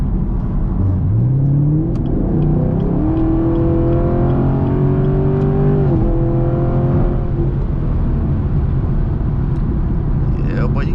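A Chevrolet Camaro SS engine revs and accelerates hard, rising pitch climbing through gears with a shift near the middle, loud and close from inside the car, steady road roar throughout and a voice briefly at the end.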